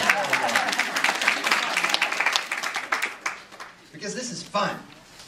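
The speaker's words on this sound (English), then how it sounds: "Give him a round of applause." Audience applause in a lodge welcoming a presenter to a painters' gathering, dense clapping for about four seconds that thins out, with a voice speaking over the tail.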